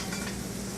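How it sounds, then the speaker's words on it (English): Sausage sizzles in olive oil in a cast iron skillet, a steady close hiss of frying with a faint crackle throughout. "when you set down your sausage on there and it starts to sizzle right away"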